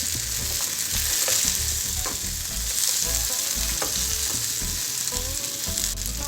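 Tomato pieces and green chilies fry in a pan with a continuous loud sizzle and repeated scraping, stirring knocks at an irregular rhythm, close up and with no one talking.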